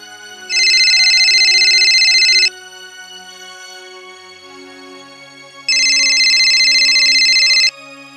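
A telephone ringtone sounds in two loud, steady bursts separated by a few seconds of quiet background.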